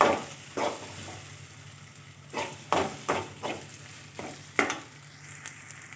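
Onions frying in oil for egg curry, sizzling steadily while a spoon scrapes and stirs the pan in several distinct strokes, close and alone without talk.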